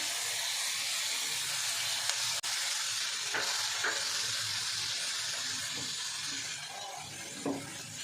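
Chopped tomatoes frying with half-roasted onions in a pan for a paneer sandwich filling, a steady close hiss and sizzle running throughout with a few faint stirring scrapes and clicks, no talking.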